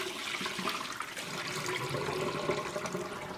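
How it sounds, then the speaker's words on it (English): Water from a pot of boiled potatoes is tipped out into a sink, a continuous splashing, gurgling pour at close range that runs steadily throughout without any voices. "I tip some of the water off"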